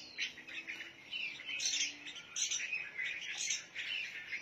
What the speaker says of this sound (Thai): มือซ้ายช่วยป้อนลูกนก